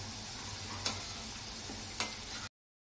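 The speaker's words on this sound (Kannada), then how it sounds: "ಈ ರೀತಿಯಾಗಿ ಒಂದು 4 ರಿಂದ 5 ನಿಮಿಷ ಫ್ರೈ ಮಾಡ್ಕೋಬೇಕು" Okra (bhindi) fries steadily in hot oil with a soft, continuous sizzle, broken by two brief sharp clicks of a utensil against the pan, fairly faint and without talk.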